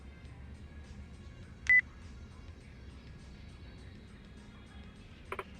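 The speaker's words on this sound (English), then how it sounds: "Oh, my phone." A mobile phone in the video game Yakuza Kiwami 2 gives a short electronic tone, followed by a fainter second beep a few seconds later, over a quiet low background hum.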